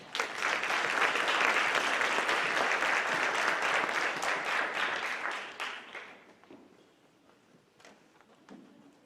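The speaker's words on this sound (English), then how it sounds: "a round of applause for these 2 ladies and congratulations" An audience at a school scholarship and awards ceremony claps for two award recipients, steady loud applause for several seconds before thinning to a few scattered claps.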